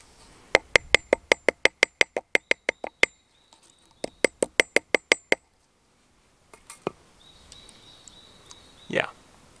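A hammer strikes metal while cold forging Viking jewelry in a forest, ringing in fast, evenly spaced runs of sharp taps with a brief pause between runs, followed by scattered knocks and birdsong.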